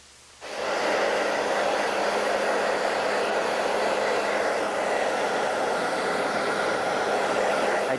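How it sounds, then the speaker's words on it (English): A handheld blow dryer lifts hair at the scalp, its steady, loud whooshing airflow starting after a brief quiet moment and running on without pause. No one speaks. "taking the blow dryer at the scalp and lift the hair up"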